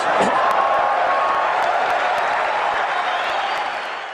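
An audience at the Power Mac G4 door reveal breaks into loud, sustained applause with scattered cheers and whoops, which fades slightly toward the end.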